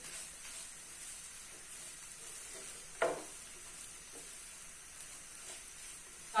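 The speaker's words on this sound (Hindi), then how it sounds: "ये डाल के इसको हम हल्का सा मिक्स कर लेंगे।" Spices being stirred into samosa filling frying in a pan: a faint, steady sizzle and hiss with soft stirring scrapes and one sharper utensil clink partway through.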